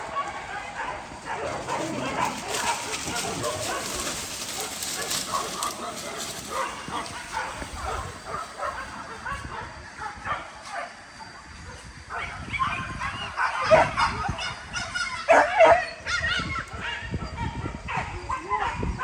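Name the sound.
hunting dogs barking and yipping while working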